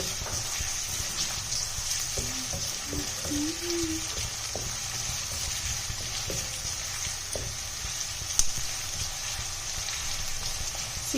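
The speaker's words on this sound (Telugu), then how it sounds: "మంచిగా చిన్న చిన్న కట్ చేసుకొని మంచి ఫ్రై చేయాలి బ్రౌన్ కలర్ వచ్చేంత వరకు ఫ్రై చేయాలి" Finely chopped onions and green chillies fry until brown for a makhana masala curry, making a steady, moderate sizzling hiss with a few small clicks and stirring touches. The sound is close and unbroken throughout.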